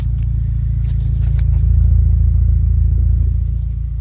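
A 2016 Cadillac ATS-V coupe idles with a deep, steady engine and exhaust rumble nearby, swelling slightly in the middle and staying low and continuous with no talk.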